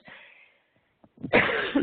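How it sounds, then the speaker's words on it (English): A single close, harsh cough into a headset microphone, sharp and loud, follows a moment of quiet breath noise. "I apologize for coughing into my headset"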